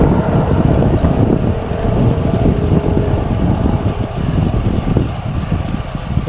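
Crosswind roars across the microphone of a cyclist riding on a road, a loud, steady broadband rush that gusts slightly up and down throughout.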